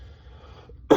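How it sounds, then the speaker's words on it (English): A single sharp cough from a person with a lingering cold, loud and close, bursting out at the very end after near silence. "This cough won't go away."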